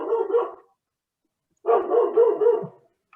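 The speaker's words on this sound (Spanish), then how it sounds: "esas que escuchan de fondo no es una pregunta, sino de la perra" A female dog barks in the background in two bursts of rapid, fairly loud barking separated by a second of silence, with no talk over them.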